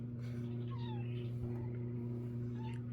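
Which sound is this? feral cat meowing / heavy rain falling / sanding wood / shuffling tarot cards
feral cat meowing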